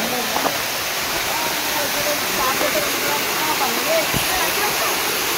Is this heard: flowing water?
yes